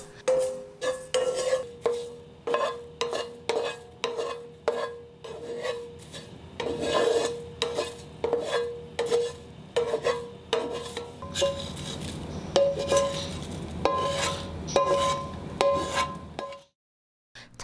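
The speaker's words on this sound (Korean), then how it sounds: "잘 말린 자소엽을 프라이팬에 넣고 약한 불에 가볍게 살짝 볶습니다" Dried perilla leaves are lightly roasted over low heat in a frying pan, a series of dry, rasping scrapes and rustles repeating roughly every second, close and clear, with no voices and a brief silence at the end.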